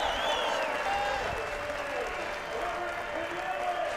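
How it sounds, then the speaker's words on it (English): A crowd at a MotoGP race podium claps and cheers in sustained, dense applause, loud and continuous, with a commentator talking over it. "Crowd on their feet."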